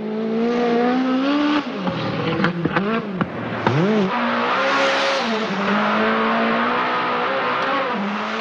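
Rally car engine on a special stage, revving hard with sharp rises and dips as the car slides sideways, a loud close snarl with brief gear-change drops and no talk.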